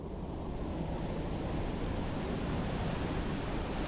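Water from a waterfall pours into a pool in a canyon in North Cascades National Park, a dense, steady roaring rush that fills the whole clip without pause, close and loud.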